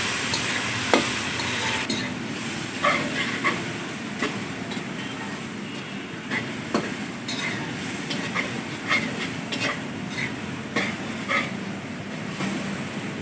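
Tomatoes fried with salt in a pan for aloo matar pulao, a steady close sizzle with scattered stirring scrapes and clicks running throughout, no voices.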